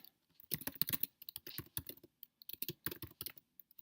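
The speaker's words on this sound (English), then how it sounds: "I'll type in the title of the waiver" Rapid typing on a computer keyboard while entering a heading in a waiver setup, close and crisp, with irregular bursts of clicky keystrokes and short pauses, no talking.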